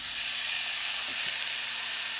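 Steady, loud sizzling of Italian sausage frying in a hot pan, a continuous bright hiss with no talking.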